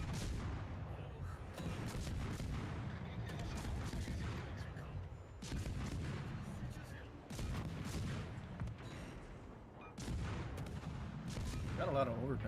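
Naval guns fire in World of Warships Legends in repeated heavy booming volleys with rumbling tails, fairly continuous battle noise at moderate level, with a voice talking over it at times.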